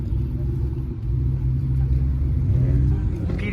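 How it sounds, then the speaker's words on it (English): A modified Porsche 911 Turbo rumbles with a low, steady engine note at a car meet, fairly close, with a slight rise near the end. "Got a modified Porsche 911 Turbo."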